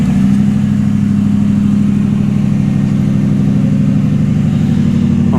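A loud 2011 Ford Crown Victoria engine revs steadily and close, a deep continuous rumble holding throughout with no talk over it.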